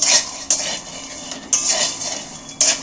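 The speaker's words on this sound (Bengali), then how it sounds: "এটাকে একটু ভালো করে নেড়ে ভেজে নেব বাদামটা" Peanuts dry-roasting in a pan over a low flame, stirred with a utensil; bright rattling scrapes come in about three bursts between quieter shuffling, close and fairly loud, with no talking.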